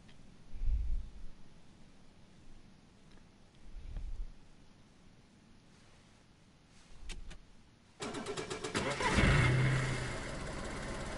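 A 4x4 vehicle in the video game DayZ roars to life after a few soft low thumps, its loud engine running steadily through the final seconds.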